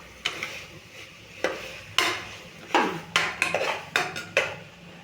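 A spoon scrapes and knocks against a cooking pot while vegetable biryani is stirred, giving a series of irregular metallic clanks and scrapes at close range with quiet pauses between strokes.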